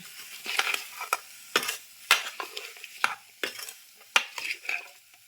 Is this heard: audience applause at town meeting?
no